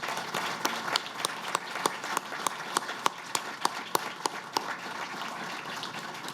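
A crowd applauds at a children's hospital ribbon-cutting ceremony. One pair of hands claps sharply and evenly close by over the softer, continuous clapping of the gathering.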